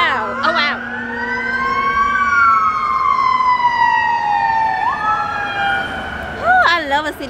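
Ambulance siren wailing in a city street, loud and close, a steady rising and falling tone sweeping across the whole stretch with a Doppler drop as it passes; a voice is heard briefly.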